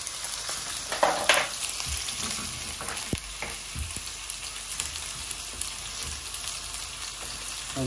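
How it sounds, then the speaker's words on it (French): Osso buco meat sears in a hot pan, giving a constant crackling sizzle with occasional pops and a few utensil knocks, close and unbroken, with no one talking. "On va commencer à saisir notre viande gentiment."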